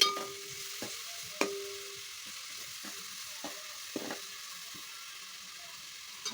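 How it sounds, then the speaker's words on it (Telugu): Chopped onions fry in oil with spices in a pan for a curry, a steady soft sizzle broken by a few sharp spoon clicks and scrapes as they are stirred. "ఉల్లిపాయలు వేగుతున్నాయి కదండి"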